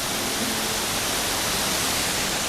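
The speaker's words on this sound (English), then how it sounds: "my personal favorite part of Cuyahoga Valley National Park, the gorgeous Brandywine Falls" Brandywine Falls in Cuyahoga Valley National Park, Ohio, gives a constant broadband rush of falling water, loud and unchanging from start to finish with no voices.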